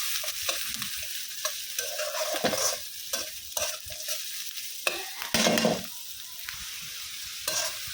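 Dried fish frying in oil with onion paste in a pan, heard as a steady close sizzle with repeated scraping stirs and clacks of the utensil, and no talk.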